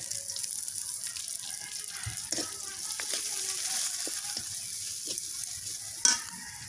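Spice masala is stir-fried in a pan, with a continuous soft sizzle under scraping, stirring strokes, a few light knocks and a sharper clink near the end.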